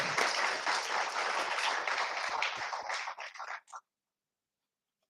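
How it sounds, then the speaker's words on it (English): Audience applause at a World Food Safety Day ceremony honouring a guest, a dense burst of clapping that holds steady for about three seconds, then thins out and stops. "Big round of applause."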